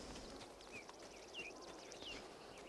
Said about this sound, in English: I'm hearing some more footsteps right around us here.